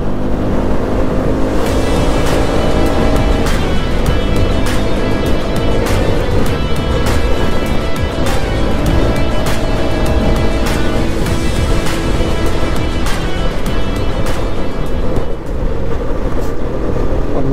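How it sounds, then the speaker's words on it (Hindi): A motorcycle rides along a road on an all-India trip in Arunachal Pradesh, its loud continuous engine and road roar punctuated by repeated sharp rattling clicks from a broken front part. "मेरी बाइक में अभी आगे आवाज़ भी आ रही है यहाँ पे जो निकला हुआ है टूटा हुआ है"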